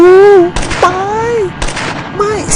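Gunfire in a video game: three sharp, loud bursts spaced about a second apart, mixed with an excited voice shouting between and over them.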